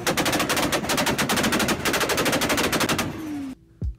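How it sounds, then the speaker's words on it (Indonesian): A competition car's anti-lag system fires off a long rapid string of loud backfire bangs like machine-gun shots, then the engine note falls away, leaving one short final rev. "mobil di kompetisi biasanya juga akan mengeluarkan suara tembakan seperti ini"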